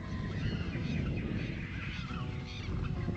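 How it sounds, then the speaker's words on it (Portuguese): Many birds calling in the Pampa grasslands, a dense continuous chorus of honking and squawking calls layered over one another, steady and fairly loud, with no voices. "E muitos pássaros."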